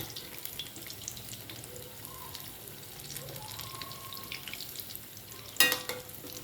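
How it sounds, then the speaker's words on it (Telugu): Karamani vada batter made from black-eyed peas fries in hot oil, a soft continuous bubbling sizzle heard faintly up close, with one sharp metallic clink near the end. "నూనె బాగా మరిగితే సిమ్లో పెట్టుకోవాలండి లేదంటే లోపల ఉడకదు లోపల వేగదు కాబట్టి మనం సిమ్లో పెట్టి కాసేపు వేయించుకోవాలి"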